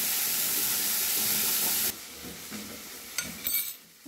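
Tomato frying in a pan for a Bengali fish-head moong dal: a loud, dense sizzle that suddenly drops to a softer hiss, with a few light clinks near the end.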